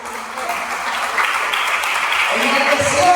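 Applause from a church congregation fills the space, a steady wash of clapping that swells slightly toward the end, with some voices mixed in.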